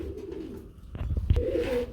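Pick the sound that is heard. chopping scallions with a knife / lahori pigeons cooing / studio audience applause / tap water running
lahori pigeons cooing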